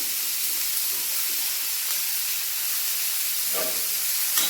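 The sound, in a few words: chopped onions frying in hot mustard oil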